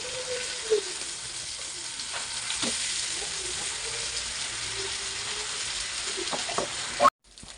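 Large tilapia fillets seasoned with tandoori masala frying in oil in a pan, a steady close sizzle with occasional clinks and scrapes from turning the fish, cutting off abruptly at the end.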